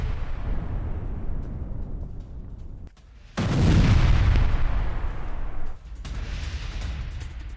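Heavy gunfire and explosions along the Lebanon border, a dense rumbling barrage with a brief lull before a louder sustained blast and continued firing.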